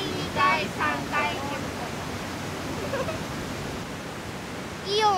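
Sangai Falls, a three-tiered waterfall, gives off a steady, close, broadband roar, with short bursts of voices over it near the start and at the end.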